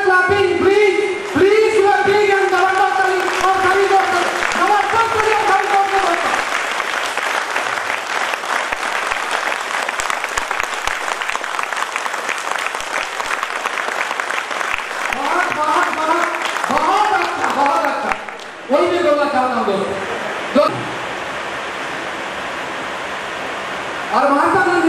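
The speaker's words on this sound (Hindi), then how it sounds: "एक original clapping please please big and जबरदस्त ताली" A large seminar audience breaks into loud, sustained applause for about twenty-five seconds, a dense roar of many hands with a few voices cheering above it.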